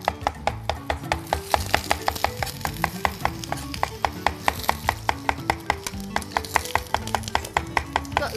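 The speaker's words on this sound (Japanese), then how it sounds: "種を取って包丁で叩いてペースト状にします" Kitchen knife chopping pitted pickled plums (umeboshi) into a paste on a cutting board, with steady rapid knocks repeating close by for the whole stretch, over a faint background of cooking noise.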